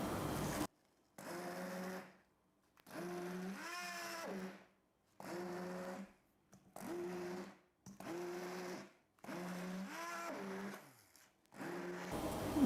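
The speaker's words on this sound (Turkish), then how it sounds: "bir blender'ı çalıştırayım" A kitchen blender runs in repeated short bursts while blending chickpea bread batter, each whirring pulse a second or so long, separated by brief silences, the motor pitch dipping as it labors.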